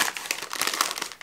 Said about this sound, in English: please excuse the cat scratching